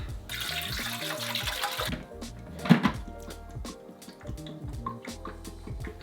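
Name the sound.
RO water poured into a reptile fogger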